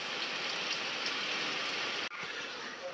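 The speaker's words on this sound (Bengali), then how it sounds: "ধীরে ধীরে বৃষ্টি বইছে" Steady daytime rain hisses over open rice fields during a nor'wester storm, an even patter that briefly cuts out near the end before resuming softly.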